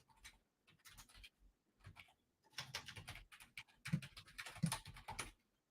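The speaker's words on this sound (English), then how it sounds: "Go type that real quick." Fingers typing on a computer keyboard, bursts of quick soft key clicks with short pauses between them, quiet and close, no talking.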